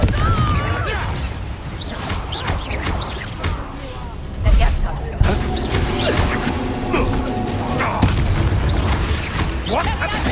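Fire-spell explosions from the Hogwarts Legacy video game boom and crash repeatedly amid a dense, loud stream of combat effects, whooshes and shouted spell calls throughout.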